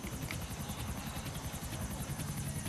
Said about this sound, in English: I'm gonna take out the helicopter.